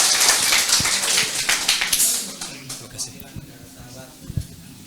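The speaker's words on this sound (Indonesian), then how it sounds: "tepuk tangan dulu" Indoor audience at an Indonesian organic farming gathering clapping for a Malaysian representative, a dense burst of applause that thins into scattered claps and fades as the room quiets.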